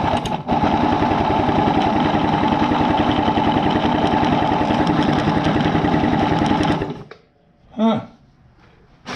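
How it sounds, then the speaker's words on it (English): A 1973 Yamaha AT3 motorcycle engine runs steadily and loudly at close range with throttle applied, then abruptly dies away, followed by a brief mechanical squeak or rattle and quiet. "Give it a little bit of gas on the throttle."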